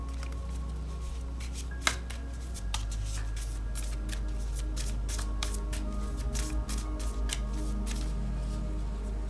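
Oracle cards are shuffled by hand close up, a run of quick papery riffles and flicks with a soft thump early on and a low hum underneath.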